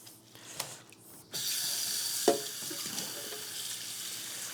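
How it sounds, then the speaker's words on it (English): Dishes are washed by hand in a sink of brownish water, with soft clinks, then running tap water and splashing that carries on steadily at close range. "I am not washing my dishes by hand because I want to"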